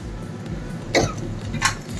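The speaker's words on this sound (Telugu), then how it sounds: "నాకు ఈ ఎండుమిర్చి ఘాటుకు దగ్గు వచ్చేస్తుంది." Two short coughs, one near the start and a second a little later, set off by pungent fumes from dried red chillies frying in a home kitchen, heard over a low steady background.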